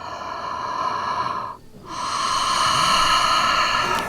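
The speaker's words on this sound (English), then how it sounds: "Making like a ha sound in the back of the throat." A slow, audible breath drawn in the back of the throat with a closed mouth during a yoga flow, forming two long, steady breaths separated by a short pause, close and continuous over a sustained tonal background.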